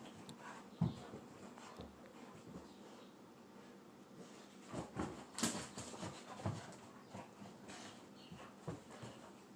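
A dog romping and playing indoors, with scattered thumps, scuffles and brief yelps spread across the stretch, strongest in the middle, heard at moderate distance in a house.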